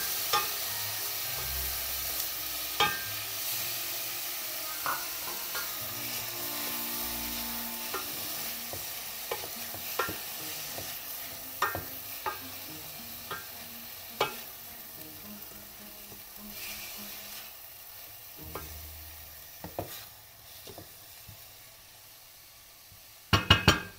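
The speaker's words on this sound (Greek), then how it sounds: "Προσθέτουμε το λιωμένο κρεμμύδι" Onion and garlic sauté in a pan for mushroom risotto, a steady low sizzle running throughout with repeated sharp clinks and scrapes of a utensil stirring against the pan, growing busier toward the end.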